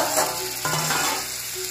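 Spices sizzling in a pan for paneer bhurji: chilli, salt, cumin powder and turmeric frying in hot oil with a steady, close hiss and a brief clatter of stirring, no talking.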